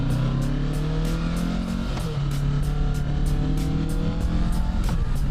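Kawasaki Ninja 650 motorcycle engine given a couple of revs on a street, rising and falling engine tones near the microphone over steady wind and road noise, no talking.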